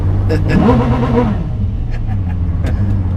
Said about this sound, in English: They want you to rev it. Want me to rev it?